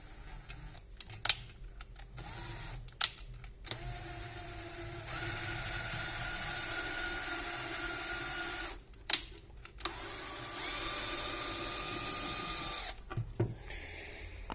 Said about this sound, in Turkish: Kılavuzumuzu Şarjlı matkabımıza taktık